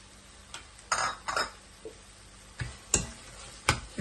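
Ground pepper, cumin and garlic spice paste sautéing in a pot for stingray fish curry, with a quiet background sizzle and sharp intermittent clinks and scrapes of a ladle against the vessel.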